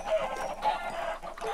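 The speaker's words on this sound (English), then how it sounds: "chickens in the top of each other" Chickens in the Minecraft Hexxit modpack cluck in short, soft bursts, a faint and fairly distant game sound effect repeated a few times.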